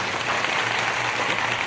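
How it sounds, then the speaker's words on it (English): Steady applause from an audience at an astronomy talk in a bar in Charlottesville, dense and continuous clapping at a moderate distance with a faint low hum beneath. "So a round of applause for Chris"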